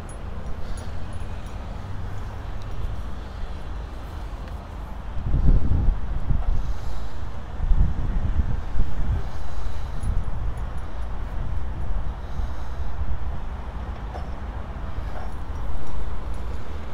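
Strong wind blowing outdoors near a weather vane, about 30 km/h from the south, a steady low rumble of wind buffeting the microphone that swells in gusts through the middle and toward the end, with no talking.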